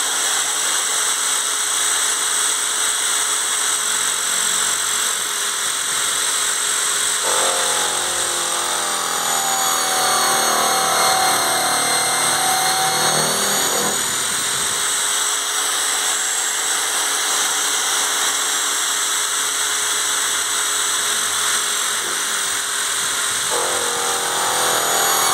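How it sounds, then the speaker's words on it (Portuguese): An electric drill bores a hole in a hydraulic ram pump's suction valve, a steady loud mechanical whine that shifts pitch and strain midway before settling back, running alone without speech. "talvez eu não consiga tirar esse som da furadeira"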